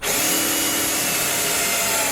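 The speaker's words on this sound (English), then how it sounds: "where there's metal this side, I will drill right through" A power drill whirs continuously and loudly at close range, biting steadily into wood cladding without pause.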